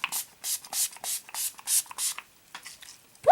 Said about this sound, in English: I'm going to set everything using the Urban Decay All Nighter Makeup Setting Spray